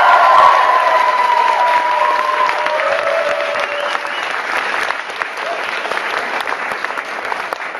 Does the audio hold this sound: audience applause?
yes